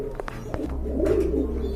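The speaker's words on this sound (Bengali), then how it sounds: "ওইটা কিন্তু আপনার নর কবুতর" Soft, low pigeon cooing murmurs steadily close by, with a few faint sharper chirps early on and no voices.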